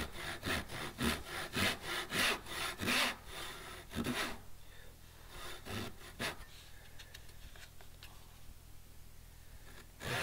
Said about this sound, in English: set my saw down in there until the teeth can feel that little wall